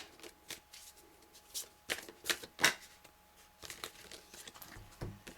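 Tarot cards being shuffled in soft bursts of riffling and sliding, several quick flurries close up with short pauses between them, fairly quiet, no talking.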